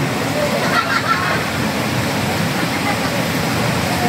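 Strong river current rushing in a steady, dense roar of water, close and continuous throughout without a break.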